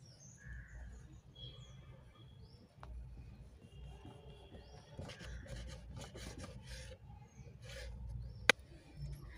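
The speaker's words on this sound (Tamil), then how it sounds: "ப்ரெட்டை கட் பண்ணுறேங்க. இதை வந்து ட்ரையாங்கிள் சைஸில் இப்படி கிராஸாக கட் பண்ணிக்கலாங்க." A knife cuts bread crosswise into triangles for shahi tukda, giving a soft rasping, sawing scrape that repeats steadily, close up, with a sharp click near the end and no talking.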